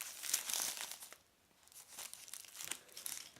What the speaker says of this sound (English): So let's go ahead and open up the packet.